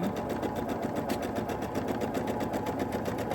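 A sewing machine stitches fabric for a quilt block, a fast, even mechanical whirring with a steady needle rhythm, close and alone.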